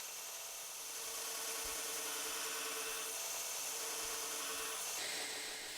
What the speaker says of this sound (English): The handle end is ground to create a groove, making it less likely for the paracord to come loose.